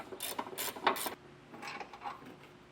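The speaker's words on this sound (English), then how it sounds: "You may want to use a breaker bar to break them loose first, but then grab a wrench to get them all the way off." A wrench works 18 mm bolts loose on a 2022 Jeep Wrangler during a trailer hitch install, giving several quick ratcheting clicks in short bursts, close and fairly crisp, with quieter mechanical rattling after.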